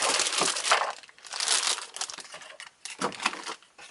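Cardboard packaging from a Power Rangers White Tigerzord toy crumpled by hand, several close bursts of crinkling and crushing separated by brief pauses.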